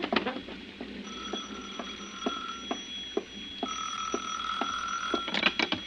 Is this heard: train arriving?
no